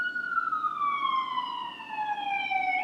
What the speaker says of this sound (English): y'all probably hear those sirens too. They loud as fuck.